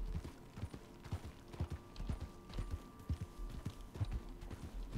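Horse hooves clip-clop at a steady walking rhythm in Red Dead Redemption 2, faint and fairly even, with no voices over them.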